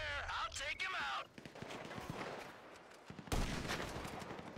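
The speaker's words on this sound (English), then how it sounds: "Sniper fire!" Sniper rifle shots crack in the video game GTA V, a few sharp loud bangs with short echoing tails, one heavy report near the end, set against a speaking voice early on and background game noise.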